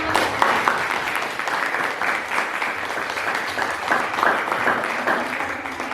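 Steady applause from a class of students for a student group, continuous dense clapping at moderate loudness throughout, with little else audible.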